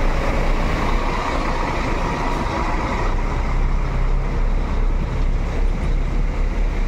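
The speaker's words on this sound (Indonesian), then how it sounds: "Berangkatkan 1 unit bus Al-Hijrah Sweet Family akan menuju Ranah Minang" An Al-Hijrah bus pulling out of Kampung Rambutan terminal makes a loud, constant engine rumble with broad roaring noise, close and unbroken, without any voices.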